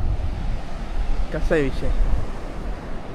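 Sea waves wash steadily along the Konkan coast at Shrivardhan in a constant broadband rush with wind noise. Someone speaks briefly partway through.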